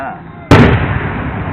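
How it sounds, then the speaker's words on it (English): A large firework bursts with one sudden, loud, close blast, followed by a long rumbling, crackling decay; no one speaks while it sounds. "That is a massive firework."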